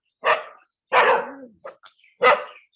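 Dogs bark loudly and close by at a village temple in Kham Kwang, three sharp barks with short gaps and a couple of small yips between, otherwise quiet.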